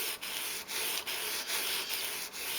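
Gerber Paraframe knife blade stroked steadily across a single-grit sharpening stone, a close, continuous hissing scrape broken by brief gaps about every half second as each pass ends and the next begins.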